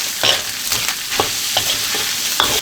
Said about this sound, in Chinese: 肉炒香，下姜蒜、